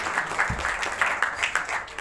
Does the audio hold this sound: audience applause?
yes